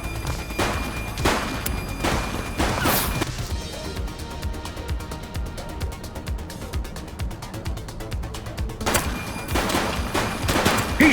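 Sustained gunfire in The Precinct police game: sharp repeated shots and a dense rapid burst of automatic fire rattling close and loud, with heavy impacts and crashes at the start and end.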